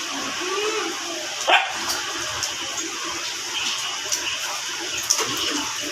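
Several small pet dogs in a home yapping in quick, sharp bursts, loud and close, amid a steady background hiss, with one stronger bark about a third of the way in.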